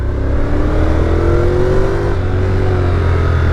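A 2021 Honda NC750X on its standard exhaust drones loudly and steadily up close, with engine pitch rising and falling as it revs while riding, with no talk.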